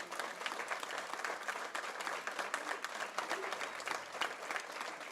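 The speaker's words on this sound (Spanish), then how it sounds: "Denle un aplauso a Dios." Faint but steady applause from a church congregation during a sermon, a dense, even wash of many clapping hands heard from a distance throughout, with a few voices mixed in.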